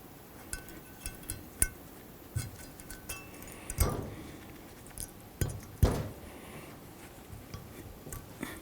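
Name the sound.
metal brake hardware tin clinking as it is fitted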